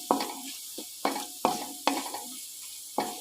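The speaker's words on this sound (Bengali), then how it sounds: "উচ্ছেগুলোকে একটু শক্ত করে আমি কড়া করে ভাজলাম" Bitter gourd pieces fry crisp in hot oil with turmeric, stirred in a pan for shukto: five or six quick scraping strokes of the spatula over a light sizzle, close-up and without talk.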